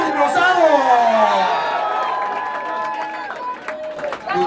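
Loud crowd applause and cheering with whoops for the winner at a birthday awards party, a dense roar of clapping and shouting voices sustained throughout.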